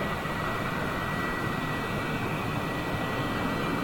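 Former Iberia passenger jet at Lisbon airport, a steady broadband engine roar, fairly loud and continuous, with no voices over it.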